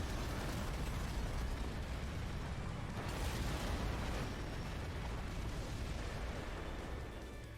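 A giant cannon shot fired in the mecha action game Daemon X Machina sets off a loud, sustained explosive roar that fills the whole stretch, with a heavier surge midway before slowly easing off at the end.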